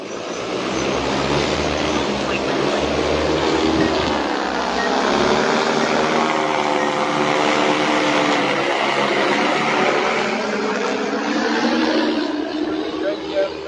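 An agricultural spraying drone lifts off and flies at an outdoor agricultural show, giving a loud, steady, whirring rotor drone with shifting tonal bands that fills the whole stretch; faint voices may sit underneath.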